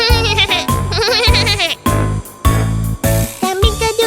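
A cartoon goat lets out a loud, wavering bleat several times over a music bed in a children's animated story, each call trembling and nasal, with short pauses between bursts.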